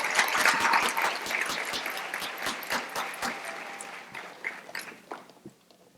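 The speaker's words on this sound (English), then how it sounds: "If you all could please give the special education majors one round of applause." Audience applause fills a university education pinning ceremony, starting as dense clapping from a crowd and gradually thinning to scattered claps as it dies away.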